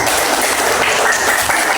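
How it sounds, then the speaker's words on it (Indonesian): A classroom group applauds briefly, a short burst of dense, loud clapping from many hands close by. "Ya, bagus, tepuk tangan."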